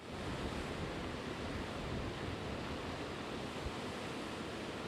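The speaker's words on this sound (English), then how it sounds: "That choppy water you see behind me, that is not the ocean. That's the Indian River" Choppy Indian River water churned by Hurricane Matthew's wind, a dense, steady roar of waves and gusts buffeting the microphone without pause.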